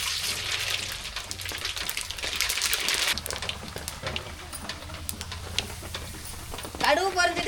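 Mustard seeds crackle and splutter in hot oil in a home kitchen, a dense run of sharp pops close by while someone talks over them.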